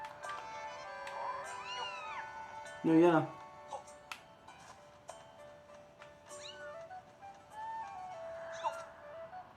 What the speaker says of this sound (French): Récupérons le petit chat.